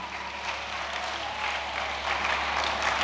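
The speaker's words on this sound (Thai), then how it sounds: "ปรบมือให้เพื่อนด้วยครับ" Faint, steady applause from students clapping for classmates in a classroom, a soft, even patter that continues across the whole moment.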